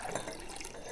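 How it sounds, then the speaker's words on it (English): Water poured from a container into a big glass for iced water, a steady, close splashing stream that runs without a break. "pour in half of the water."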